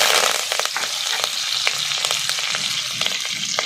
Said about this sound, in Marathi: आता त्यामध्ये 1 चमचा मोहरी घालायची आहे, 1 चमचा जिरा, थोडी कढीपत्त्याची पानं